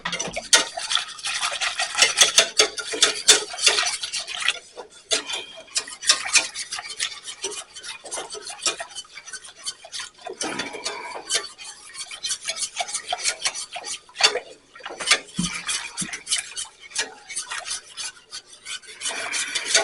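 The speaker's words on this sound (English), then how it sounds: "Okay, I sense a few clumps in here, so let me get the whisk." A whisk scrapes and rasps through cream of asparagus soup in a pot to break up clumps: rapid, close scratching strokes in uneven bursts with brief pauses, and no voices.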